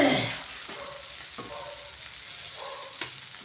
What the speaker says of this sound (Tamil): இந்த வெங்காயத்தை வந்து நம்ம இப்போ பணியாரத்துக்கு சும்மா அப்படி தாளித்து கொட்டிக்கலாங்க.